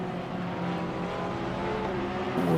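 Race cars in the sim racing game Assetto Corsa Competizione, including a Ferrari, Porsche and McLaren, roar steadily in a continuous engine drone with shifting whine as the cars accelerate.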